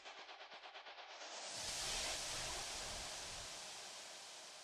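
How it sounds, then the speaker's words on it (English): A burst of rushing white noise sweeps in after a fast fluttering pulse, swelling loud then slowly fading, like a synthesized riser in electronic music. "Some white noise again."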